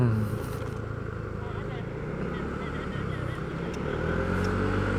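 A Kymco RTS R165 scooter's horn honks amid steady engine rumble and wind noise while the scooter is ridden, the tone sitting over a constant, loud road roar.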